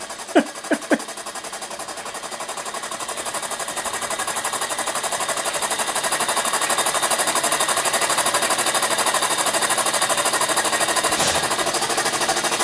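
A small scratch-built piston valve model steam engine, fed by a tiny boiler, runs with a rapid, even chuffing that holds steady and grows slightly louder, after a couple of sharp clicks at the start.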